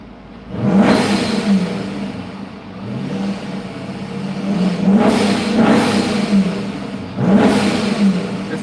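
A supercharged Jeep SRT Cherokee engine being tuned, revving up in several loud rising surges with a supercharger whir, easing back between pulls, heard up close with no talking.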